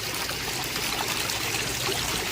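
Large waterfalls from Aquascape biofalls on a 120,000-gallon pond, pumps at half flow, pour in a steady, dense rushing splash that holds evenly throughout with no voices.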